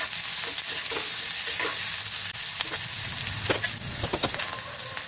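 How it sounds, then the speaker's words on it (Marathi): Onion and curry leaves fry in a pan with a steady, loud sizzle throughout, while a spatula scrapes and stirs in irregular strokes close by. "आता कांदा परतून घेणार आहे, त्याचबरोबर कढीपत्ता टाकते"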